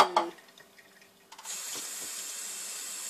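Hot water gushes from a kitchen tap into a container after a few quiet clinks and clatters, then runs as a steady, close stream for the rest of the moment.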